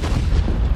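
A frag grenade detonates in Rainbow Six Siege, a dense, heavy low boom rolling steadily through the whole short moment, loud and close with no distinct separate hits.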